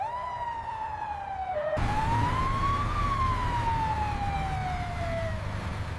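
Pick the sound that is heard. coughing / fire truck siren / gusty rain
fire truck siren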